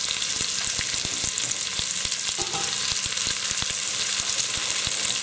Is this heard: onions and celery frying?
yes